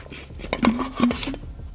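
Car wash soap mix is stirred in a small cap, producing a few close, light clinks and scrapes with a brief ringing tone, spaced over under two seconds.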